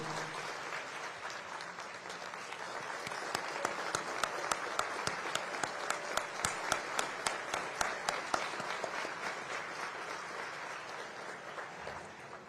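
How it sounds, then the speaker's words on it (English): Audience at the IIT Madras convocation in Chennai giving a round of applause and standing ovation for the President and First Lady of Zanzibar, sustained crowd clapping with sharp rhythmic claps standing out in the middle, swelling then easing. "join me in welcoming His Excellency and the First Lady of Zanzibar to India, to Tamil Nadu, to Chennai, to IITM with a great round of applause"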